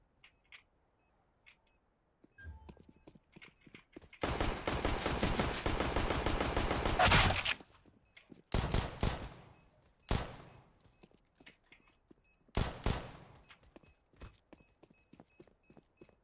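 A big gun in a shooter game unleashes a long, loud sustained burst of rapid automatic fire, followed by several shorter separate bursts with quiet gaps and faint beeps between them.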